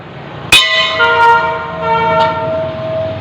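A large temple bell at a Durga temple in Bhanwarpur, Chhattisgarh, India, is struck once loudly. Its bright metallic ring keeps humming and slowly fades, with a lighter second clang partway through.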